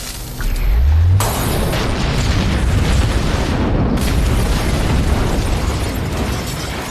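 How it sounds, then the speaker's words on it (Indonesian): A lamp bursts in a sharp, loud explosion that sets a drug production site ablaze in a film; the blast is followed by a steady, heavy roar of spreading fire that continues to the end. "Casey kemudian menyalakan lampu untuk melihat apa yang sebenarnya terjadi. Namun hal itu justru memicu lampu meledak dan membuat semua tempat itu terbakar."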